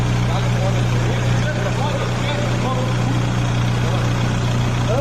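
Diesel tractor engines drone with a steady, loud low hum that does not let up, with voices murmuring faintly underneath.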